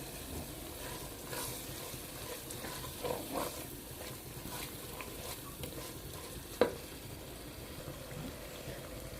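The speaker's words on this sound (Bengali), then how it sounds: "তবে এই মশলাটা যত ভাজবো ততই এটার টেস্ট বের হবে" Spice masala for a Bengali chicken roast fries in a pan with a soft, steady sizzle and occasional stirring scrapes, with one sharp utensil clank partway through; no one talks.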